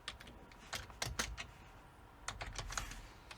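Fingers typing a question on a computer keyboard into Canva's AI, quick irregular bursts of close key clicks with a short pause midway.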